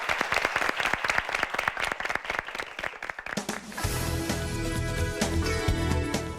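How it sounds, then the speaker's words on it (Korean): An audience claps in a dense rapid patter at a televised high school debate competition, then the applause gives way to loud swelling music and broadcast sound that take over the second half. "박수 한번 부탁드리겠습니다"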